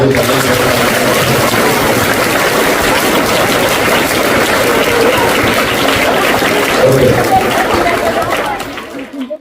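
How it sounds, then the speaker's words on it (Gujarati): An audience claps loudly and continuously at a Gujarati educational event on safe internet and social media use, a dense, steady roar of applause mixed with crowd chatter that fades out at the very end. "જોરદાર તાળીઓથી આપણે"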